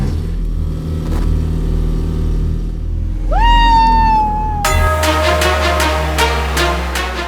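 An AI-driven car revs with a whining engine tone that rises and holds, then a harsher higher-pitched roar takes over, close and loud with no talk during the revving.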